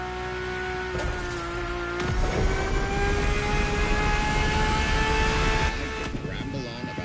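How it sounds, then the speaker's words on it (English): A Ferrari supercar engine in The Crew Motorfest, heard from the cabin, holds a steady loud drone with a slight pitch climb, running continuously throughout. "And the car's voice sounds even better from inside."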